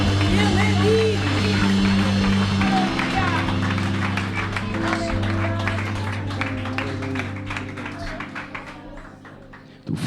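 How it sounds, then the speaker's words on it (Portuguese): A congregation applauds during a Sunday church service. Steady, dense clapping continues over music and a voice, then gradually thins toward the end. "Vamos aplaudir ao nosso Deus, porque Ele é digno"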